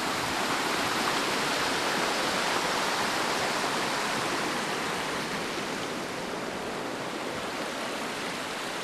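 Creek water rushes steadily and loudly, a dense broadband flow that holds constant throughout with no talking.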